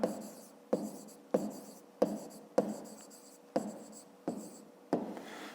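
A pen taps and scratches on paper while a fifth-grade maths exercise is written out, about eight evenly spaced strokes in a steady rhythm, close and quiet with no talk.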